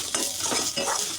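Banana flower greens fry in a pan while being stirred, giving a brief close burst of sizzling hiss with soft scraping strokes.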